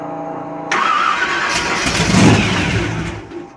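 A Ford Pop's blown engine catches and roars up on the throttle, a loud close rising rev that peaks and then settles back.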